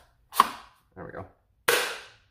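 A Gameface Geon foam blaster fitted with an aluminum barrel fires twice, two sharp cracking shots close to the mic with a softer mechanical clack between them.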